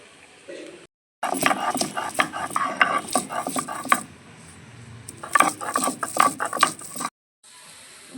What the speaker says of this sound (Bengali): এখন রসুনটা বেটে নেব।